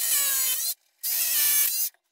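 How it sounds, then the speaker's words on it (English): A drill bores straight through a wall to fix a new toilet, two loud high-pitched bursts of a little under a second each, separated by a brief pause. "I'm just gonna drill straight through with the STS"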